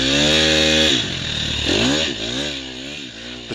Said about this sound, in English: The 250 XCF needed a little bit extra revs to get through that sand wash